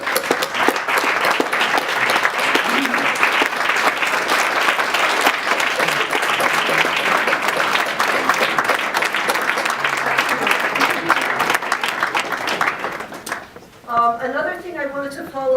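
Sustained applause from a large room fills about thirteen seconds, dense and steady, then fades as a voice begins speaking.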